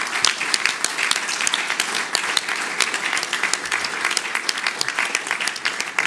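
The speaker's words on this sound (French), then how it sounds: "Je vous invite à les remercier par vos applaudissements." Audience applause at a French award ceremony, steady sustained clapping from a large crowd, loud and even throughout with crisp individual claps standing out.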